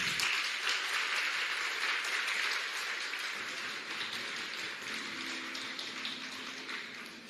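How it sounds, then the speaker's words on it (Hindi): Sustained applause from older members of a Dhyan Mahayagna meditation gathering in Uttar Pradesh, welcoming newcomers: a dense, steady wash of many hands clapping, loud at first and easing slightly, with a faint hum entering near the end. "पुराने लोग जोरदार तालियां बजाएंगे"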